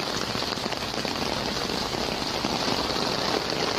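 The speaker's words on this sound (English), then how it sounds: "this is a rainstorm." Heavy rain from a rainstorm in Argentina, pouring steadily and densely onto the ground and puddles close by, a continuous even hiss with no voices.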